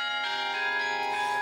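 Bells of an old clock in Riga ring with a sustained, layered metallic chime, several tones overlapping and swelling slightly, heard clearly with no talking.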